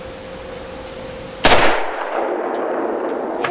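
A Ruger GP100 revolver fired at a steel target gives one sharp, loud shot that rings and decays over the next second or two, after a low steady hum, with no voices.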